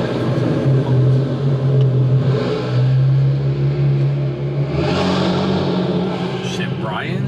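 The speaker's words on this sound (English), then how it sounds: "the sounds this car makes in the parking garage is crazy" Infiniti Q50 Red Sport engine rumbling and revving inside a parking garage, a loud, steady low drone with a swelling rev near the end, echoing off concrete walls.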